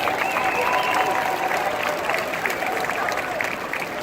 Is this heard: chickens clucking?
no